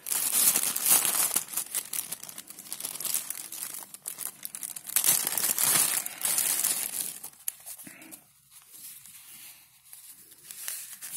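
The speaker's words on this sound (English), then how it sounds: "This is some metal foil, but it doesn't seem too long." Metal foil being unwrapped and crinkled in the hands, a steady close crackling that runs nearly continuously, thins out briefly near the end, then picks up again.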